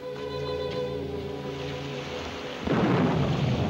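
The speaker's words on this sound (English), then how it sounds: "Look like she's gonna blow some hard. There's not much. Little rain squall over by Hazlitt's Rock" A thunderstorm with rain rolls in off a rocky coast, a steady wash of storm noise beneath sustained musical tones that suddenly swells into a louder, fuller rush of rain and rumble for the last second.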